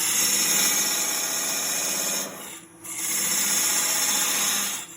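Wood lathe tool cutting into a spinning turned mortar and pestle during parting off, a steady close rasping, scraping drone that drops out briefly midway and then resumes, with no talk.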